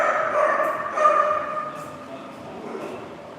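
A dog indoors gives a few short, high yips and whimpering barks, moderately close, fading after the first second and a half into quieter background.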